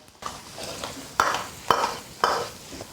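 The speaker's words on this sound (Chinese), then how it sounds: "一起炒香，下蒜头，大火翻炒匀净" Cured pork, sausage, ginger, scallion, dried chilies and Sichuan peppercorns are stir-fried in a wok over high heat. A soft sizzle sits under three sharp, evenly spaced scraping tosses of the spatula.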